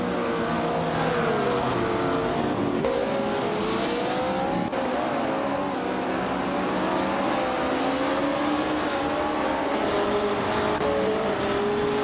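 Race cars roar around a track, a vintage 1968 Porsche 911 leading the pack, their engines droning continuously with shifting pitch as they pass, loud and dense with no pause.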